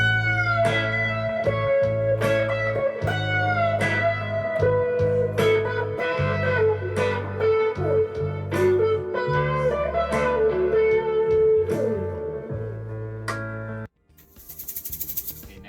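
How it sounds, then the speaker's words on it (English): Electric guitar through a Q-Tron envelope filter pedal into a Matchless SC30 amp profile plays a funky, rhythmic part with quacky filtered notes over bass and drums for about fourteen seconds, followed by a burst of shaker-like hiss. "This is a Qtron pedal."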